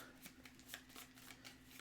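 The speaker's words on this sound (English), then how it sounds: "And I will shuffle him in." Cards from a Pathfinder Adventure Card Game deck being shuffled, a quick run of soft papery riffles and slaps close by, with a steady low hum underneath.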